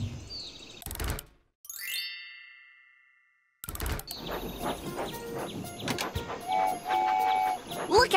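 Chiming dings and metallic clangs from a train video game, then Percy the toy train pulling ice cream wagons rolls and clatters along, with whistle-like tones and busy effects.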